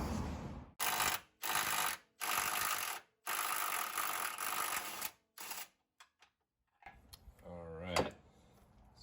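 An impact wrench with a wobble socket and extension zips out 18 mm bolts from a plastic Jeep bumper during a Rugged Ridge Arcus bumper install. Loud close bursts repeat in a stop-start rhythm, followed by a ratcheting rattle and a voice.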